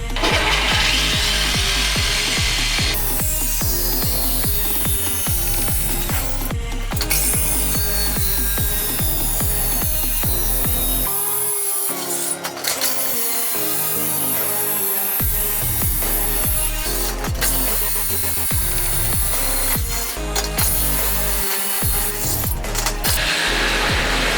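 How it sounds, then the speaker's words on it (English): Power saw blade cutting a circle out of a metal sheet for a Captain America shield, with a loud, continuous grinding and screeching cut. The tone wavers and stutters, with brief pauses in the cutting. "It's in the hole and then go slowly and try and carefully cut your circle out."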